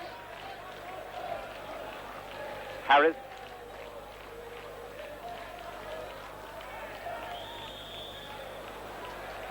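Football stadium crowd in Athens at a 1971 European Cup Winners' Cup final replay between Chelsea and Real Madrid, a steady distant roar of massed spectators with a brief louder swell, running beneath continuous commentary.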